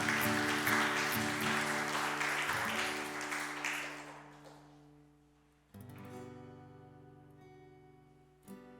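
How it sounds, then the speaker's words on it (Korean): Church congregation applauding during a Wednesday worship service, loud clapping that fades out, then a brief swell of organ-like sustained tones carrying on afterward. "주님께 영광의 박수 올려드리겠습니다"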